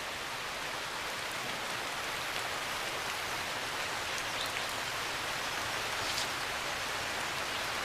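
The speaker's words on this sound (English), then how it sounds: "The rains trigger a new season of activity for the creatures of the forest." Monsoon rain falls steadily on a forest, a dense even hiss of countless drops on leaves and ground with no pauses and no voices.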